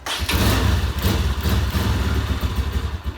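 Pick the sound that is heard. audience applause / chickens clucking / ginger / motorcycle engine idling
motorcycle engine idling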